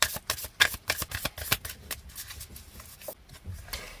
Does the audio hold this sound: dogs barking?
no